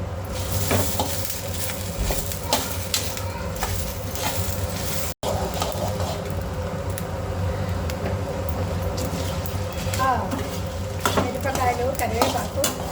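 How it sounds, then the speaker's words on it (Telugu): Dry red chillies, coriander seeds and a handful of curry leaves fry in a pan for Andhra karam podi, giving a steady crackling sizzle with stirring scrapes throughout, close and continuous, with a brief cut partway. "ఇలా దోరగా ఎండుమిర్చి వేగిన తర్వాత ధనియాలు ఎండుమిర్చి వేగినవి ఇందులో ఒక గుప్పెడు కరివేపాకు వేసుకో"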